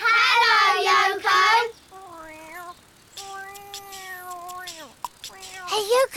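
A small cartoon cat meows several times in a children's drawing cartoon, short rising and falling mews, some drawn out, heard close and clear, with a child-like voice speaking at the start and end.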